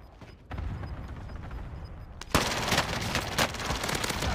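Automatic gunfire in Call of Duty Warzone on the Rebirth map, starting as distant rattling and then turning into a loud close burst of rapid shots that continues to the end.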